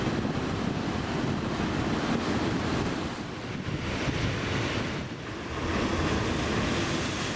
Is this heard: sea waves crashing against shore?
yes